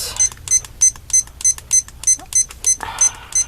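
A digital timer gives a steady series of about ten short, high beeps in even rhythm as its buttons are pressed, close and moderately loud, ending with a brief rustle.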